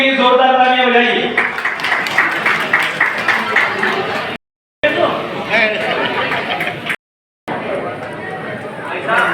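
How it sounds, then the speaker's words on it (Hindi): A crowd at a youth games closing ceremony claps and cheers amid chatter, with a voice over a loudspeaker at the start and brief cuts to silence. "जोरदार तालियां बजाइए"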